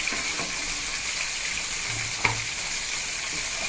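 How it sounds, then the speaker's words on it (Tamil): Onions for a chicken gravy fry in a pan, giving a steady, moderate sizzle broken by a couple of soft scraping stirs and one sharper clink of the spoon. "நெக்ஸ்ட்டு வெங்காயம் போட்டு நல்லா பொன்னிறவில் வரணுங்க. அது வரைக்கும் வதக்கிட்டே இருக்கணும்."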